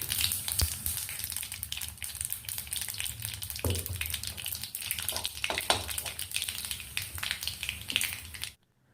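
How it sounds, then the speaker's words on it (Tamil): Mustard seeds splutter and crackle in hot oil in a pan with a pinch of asafoetida, a dense continuous sizzle with scattered sharp pops, close and fairly quiet, no voices, ending abruptly. "கடுகு நல்லா பொரிஞ்சதும்"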